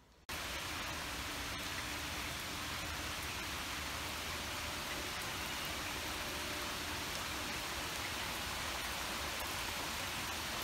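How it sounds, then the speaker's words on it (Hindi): Steady, dense hiss of heavy rain falling outside, unbroken from start to finish with no voices. "खूब बारिश हो रही है बाहर"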